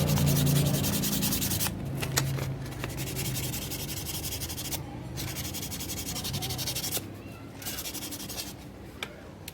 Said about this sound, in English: first I will try to clean the connector with sandpaper 1000 grit